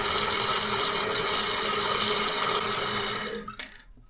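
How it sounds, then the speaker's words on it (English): A toilet tank refilling after a fill valve replacement, a loud steady hiss of rushing water that stops abruptly near the end with a click as the valve shuts off. "that increased the flow of water coming into the tank"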